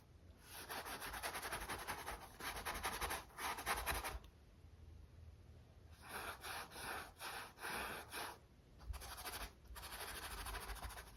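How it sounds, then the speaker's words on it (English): A brush spreads dark burnt sienna acrylic paint across a canvas in long, close scratchy strokes, alone and fairly quiet, with short pauses between runs of brushing. "I'm just going to paint it all in"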